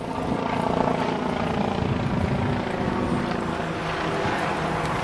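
Helicopter flying overhead under a clear sky, a steady, continuous rotor and engine drone with rhythmic chopping texture holding at an even level throughout, moderately near with no talk.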